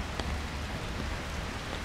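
Heavy rain falls steadily in France at autumn time, a dense, even hiss of pouring water that fills the whole moment at constant loudness with no talk over it.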